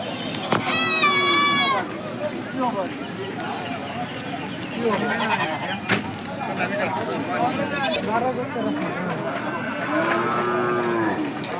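Cattle low and moo repeatedly at a morning livestock market in Assam where goats, cows and buffalo are sold, with several animals calling over steady crowd murmur and people talking nearby.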